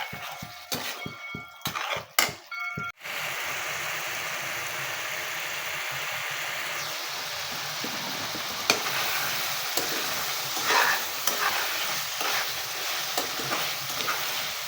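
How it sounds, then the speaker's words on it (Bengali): Katla fish pieces sauté with spices in a pan for a mung dal ghonto, opening with a few loud clattering knocks before settling into a continuous dense sizzle with occasional crackles. "মাছগুলো দেওয়ার পর এখন ভালোভাবে আমি কষিয়ে নেব মশলার সাথে"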